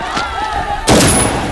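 Police open fire in a Hindi dubbed action film: a single loud, sharp report bursts in near the end and rings out over a murky background din.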